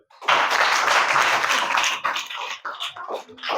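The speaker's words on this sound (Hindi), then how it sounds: "वेरी गुड, ताली बजाओ" Classroom students break into a burst of dense clapping during a Hindi math lesson, loud and sustained for about two seconds before thinning into scattered claps with faint voices.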